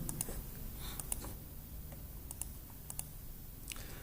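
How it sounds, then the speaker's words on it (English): Scattered keystrokes from students typing on computer keyboards in a classroom, sparse irregular clicks over a quiet room background, some near and some farther off, with no talking. "Many students are typing now, they have completed copying work."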